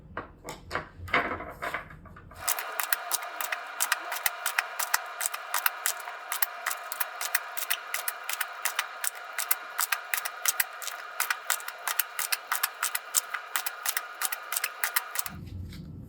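Tarot cards are shuffled and dealt by hand in a rapid, steady stream of crisp papery flicks and snaps that lasts about thirteen seconds, close and clear with no talking.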